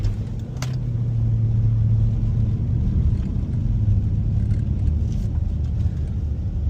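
A Jeep SRT rolls over a rough rocky road, its engine holding a steady low rumble close by, with continuous road noise and faint rattles underneath and no voices.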